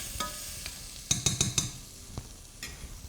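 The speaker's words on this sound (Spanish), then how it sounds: "Y continuamos con el sofrito. Ahora que ya está bien pochadito," Homemade sofrito fries softly in a pan while a utensil stirs it, a low sizzle broken by a few quick, close knocks and scrapes against the pan.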